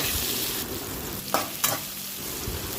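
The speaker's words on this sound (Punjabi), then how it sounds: "ਉਹਦੇ ਵਿੱਚ ਅਸੀਂ ਪਿਆਜ਼ ਤੇ ਅਦਰਕ ਨੂੰ ਕੱਟ ਕੇ ਤੇ ਕੜਾਈ ਪਾਵਾਂਗੇ ਤੇ ਹੁਣ ਅਸੀਂ ਇਹਨੂੰ ਚੰਗੀ ਤਰ੍ਹਾਂ ਭੁੰਨਾਂਗੇ" Chopped onions and ginger fry in hot mustard oil in a kadai, giving a steady, close sizzle with a couple of brief scraping stirs partway through, no voices.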